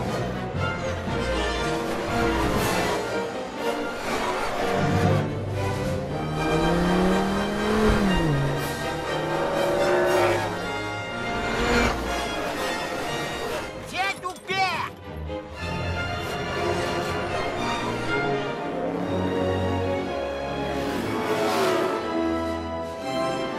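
Animated race cars in a Cars 3 movie race scene, engines revving and roaring as they speed around the track, largely buried under loud orchestral music and a commentator's voice throughout.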